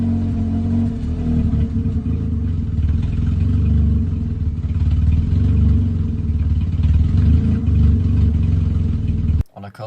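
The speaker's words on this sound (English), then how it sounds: "at the moment it idles like this" Toyota Corolla engine running on a base fuel map, idling roughly with a steady low rumbling drone and slight unevenness, close and loud, ending in a brief clatter.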